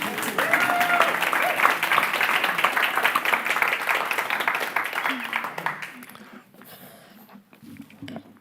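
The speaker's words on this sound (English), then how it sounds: "It's okay to clap." Audience applause at a ceremony marking entry into a life of service to a spiritual community, dense clapping for about six seconds under some talk before fading to a quiet room.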